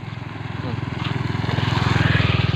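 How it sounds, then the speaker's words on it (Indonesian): A motorcycle engine drones with a steady, rapid pulsing that grows gradually louder as it draws closer. "Nanti dulu ada motor ya."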